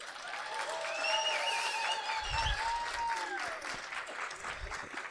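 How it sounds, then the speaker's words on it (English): Audience applause for the cast of a musical radio play at a convention, steady and sustained across the whole stretch with dense clapping, though not especially loud, and no speech over it. "I want you to applaud for them all now"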